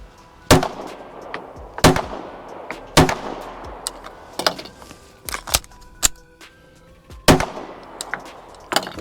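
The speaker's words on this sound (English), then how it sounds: "We're gonna go ahead and take some shots." Sharp, loud pistol shots from a Springfield Echelon ring out close by, about a dozen reports at an irregular pace with ringing decay between them.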